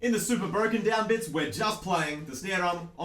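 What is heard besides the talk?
No distinct noise like a dog, phone or traffic.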